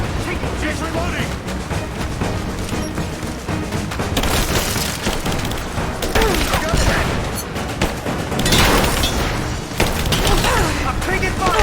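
Dense gunfire in Rise of the Tomb Raider, bursts and volleys with booming hits and explosions running steadily throughout, loud and close, while shouted voices call out over the shooting.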